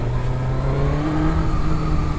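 A 2002 Honda CBR1100XX Super Blackbird motorcycle with a ram air system accelerates, its engine holding a steady, loud, close drone that climbs slightly in pitch as the revs build.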